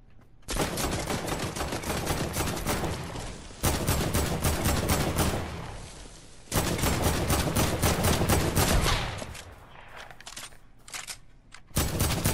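Long, loud bursts of automatic gunfire from a video game, three sustained volleys separated by short gaps, then sparser shots trailing off.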